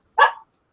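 A dog gives a single short, sharp bark, close and loud, alone against silence.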